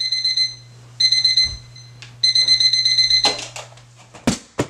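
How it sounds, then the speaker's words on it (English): A bedroom alarm clock goes off in bursts of loud, high, steady electronic beeping, three spaced blasts, followed by rustling and a few sharp knocks close by. "Then my alarm goes off again."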